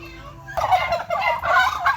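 Turkeys gobbling in a backyard poultry coop: a loud, close burst of rapid warbling gobbles starting partway through and continuing in repeated bursts, with no talking.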